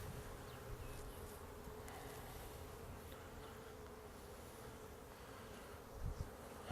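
Honeybees buzz around an opened backyard hive during a hive split, a faint, steady swarm hum with a couple of brief knocks near the end.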